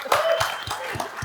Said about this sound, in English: would like to give the panel a round of applause